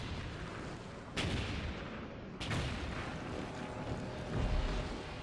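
A test blast set off before the implosion of a stadium in Salvador, Brazil: two sharp, loud detonation-like bursts about a second apart, each followed by a rumbling, windy outdoor roar.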